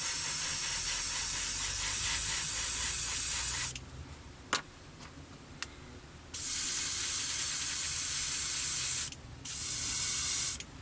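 An airbrush or spray can lays metallic paint onto parts of a 1/48 scale Pucara model kit in a loud, steady hiss. It stops for a few seconds with faint taps, then returns in two more long bursts.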